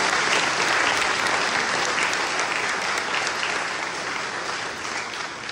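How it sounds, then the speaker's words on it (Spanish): Applause from a congregation at a Sunday Mass, greeting the birthday celebrants; a dense, steady wash of many hands clapping together, loud and sustained throughout, fading slightly toward the end. "Vamos a darles un fuerte aplauso"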